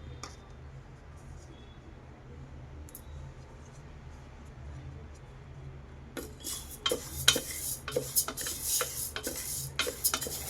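A spoon scrapes and clinks against a pressure cooker pot as moong dal is dry-roasted and stirred until golden, with quiet, irregular stirring giving way to brisker, clattering strokes.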